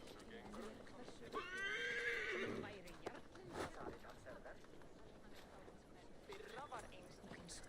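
A horse in the video game Assassin's Creed gives a clear rising whinny, with hooves clopping at a steady pace and another short neigh later, all under low background ambience.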